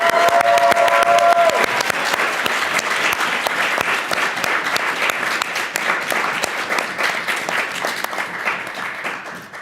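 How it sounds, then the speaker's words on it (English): A large audience at a George Mason University event applauds loudly and steadily for the full stretch, dense clapping filling the room with a faint whistle early on. "huge round of applause."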